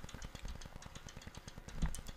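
A motorbike engine in the Happy Wheels video game idles and revs in a steady, rapid putter. It is faint and mechanical, with a brief louder thump near the end and no voices.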